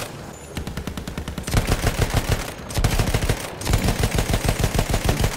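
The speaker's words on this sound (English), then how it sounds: "Kylo Ren strafes the ground" Aircraft machine-gun fire strafing the ground in Battlefield 1, loud sustained rapid bursts of shots with brief gaps between volleys.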